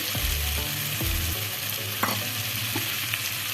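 Curry leaves hit hot oil in a pan while cooking a pointed gourd curry, giving a steady close sizzle and crackle with a few low bumps and clatters of stirring.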